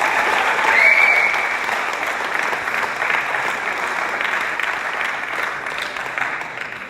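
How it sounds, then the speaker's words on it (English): Ceremony audience gives sustained applause for a high school baseball team at an award presentation, a loud steady wash of many hands that peaks early and holds, with a brief voice near the start. "Give yourself a round of applause for the baseball team."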